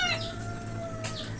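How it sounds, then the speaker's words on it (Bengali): Chickens cluck and squawk inside a small shed of cages on a poultry farm, a couple of sharp calls standing out over a busy background of hens and a faint wing flap. "মাশাল্লাহ দেখেন মুরগিগুলো"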